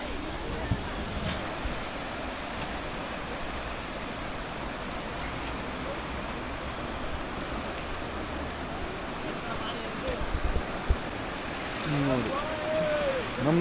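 Broad, steady roar of river water rushing past a raft during river rafting near Manali, continuous and fairly loud, with a few brief voices near the end.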